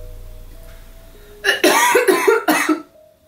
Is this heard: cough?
yes